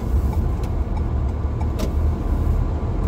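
Steady road traffic rumble from cars and engines on a congested street, a continuous low drone at moderate level with occasional brief higher passes, no voices.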